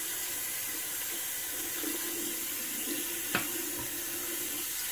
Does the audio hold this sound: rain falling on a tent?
no